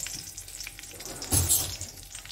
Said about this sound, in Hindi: हमारा काजू घी में, ये यहाँ पे फ्राई हो जाएगा